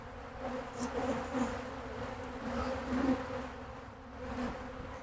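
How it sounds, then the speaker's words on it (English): Agitated honey bees buzzing around an open hive during a beekeeping inspection, a continuous droning hum that swells and dips as bees fly close past. "bee aggression."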